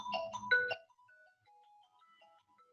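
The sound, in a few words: mobile phone ringtone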